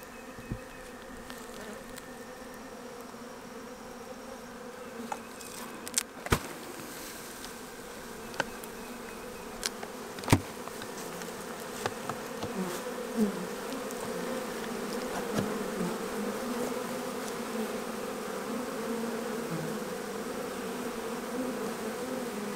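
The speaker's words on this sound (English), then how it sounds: "Good bit of bees in there." A steady, dense buzzing of many honeybees, close by and continuous, with a few brief louder knocks and clicks scattered through.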